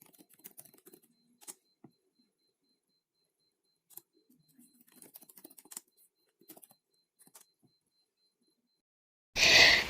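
Computer keyboard typing in Microsoft Word, scattered short bursts of soft key clicks with pauses between, close and quiet, alone without speech.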